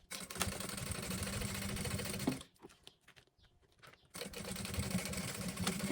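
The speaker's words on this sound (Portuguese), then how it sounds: "E a gente vai costurar até o final do plásticozinho" A sewing machine stitching along plastic fabric for a zippered makeup pouch: a fast, steady mechanical whir that runs for about two seconds, stops briefly in near-silence, then starts up again at the same even pace.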